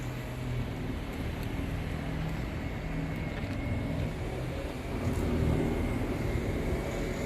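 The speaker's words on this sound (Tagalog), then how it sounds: "Mga sasakyan." Vehicles pass along a snowy street in Canada, a continuous low engine and tire rumble heard from a moderate distance, swelling slightly as one draws nearer toward the end.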